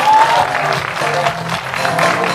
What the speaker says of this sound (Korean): 수고해주신 다섯 분께 큰 박수 부탁드립니다